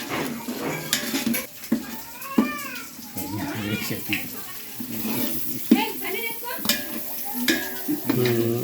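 Green chillies sizzle and spit in hot oil in a home kitchen while being stirred for egg biryani, with scraping spoon strokes, clinks of a pan and chatter and voices throughout.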